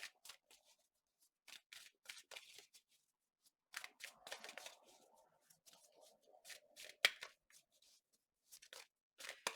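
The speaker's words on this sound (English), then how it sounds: "I like to shuffle until the cards come out" Tarot cards being shuffled by hand during a reading, heard as repeated quick papery riffles and soft slaps in short bursts with pauses between, close and fairly quiet.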